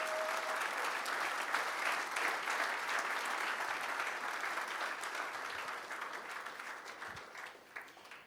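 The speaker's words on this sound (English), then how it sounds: "give them a bigger round of applause, massive round of applause" A conference audience at the PMI Africa Conference 2019 closing session gives a long, even round of applause for the volunteers, a dense wash of clapping that slowly thins toward the end.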